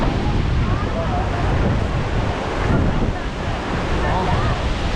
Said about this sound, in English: Here it's too windy.